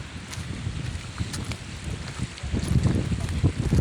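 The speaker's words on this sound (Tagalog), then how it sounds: "Sobrang lakas ng hangin habagat." Strong monsoon wind on an island shore roars and buffets the microphone in gusts, with low rumbling and rustling, swelling louder toward the end.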